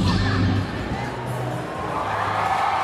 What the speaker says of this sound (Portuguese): Ouça os aplausos desse pessoal!